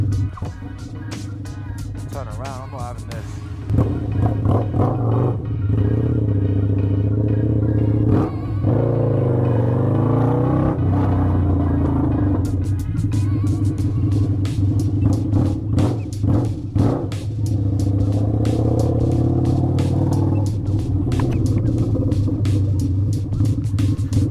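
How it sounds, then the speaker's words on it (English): Road traffic of cars and motorcycles in school-run congestion, heard from a Harley-Davidson V-Rod: a steady, loud engine rumble with clattering passes and occasional revving, continuous throughout with no talk over it. "Ugh, school traffic."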